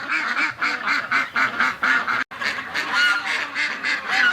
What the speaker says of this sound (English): Just listen to those ducks.